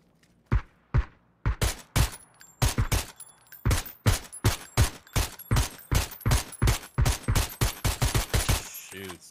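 Rapid bursts of gunfire in the battle-royale game PUBG, loud sharp shots firing in quick irregular volleys and near-continuous automatic strings, with little pause between them.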